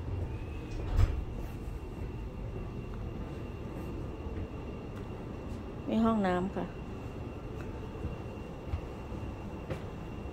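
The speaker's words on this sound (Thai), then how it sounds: "อันนี้คือในรถไฟ" Interior of a train carriage in Thailand, a steady low rumble and rolling noise throughout with a brief squeal of a door or brake around the middle, while someone speaks briefly.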